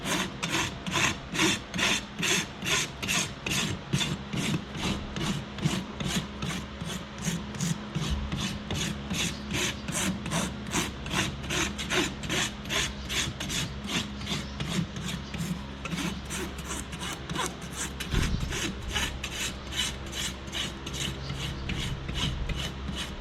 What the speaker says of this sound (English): we're gonna rasp to that bevel